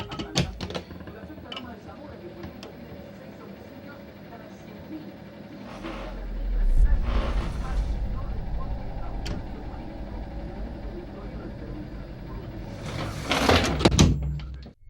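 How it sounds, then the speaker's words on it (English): A bedroom door is opened slowly, with scattered creaks and a low rumbling slide, then louder knocks and rattles near the end, all close and without speech. "She slowly opened her bedroom door"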